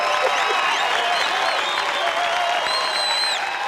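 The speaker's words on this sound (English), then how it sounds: "Wow, that's a lot of cheering" A lively crowd cheers and claps at a gaming event, a dense wash of applause with scattered shouts and whistles, loud and continuous for a few seconds.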